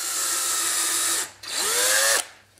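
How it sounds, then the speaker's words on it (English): Two close bursts of a power drill boring through a wooden mortise and tenon joint, the second rising in pitch and then winding down. "we're just going to drill that down through"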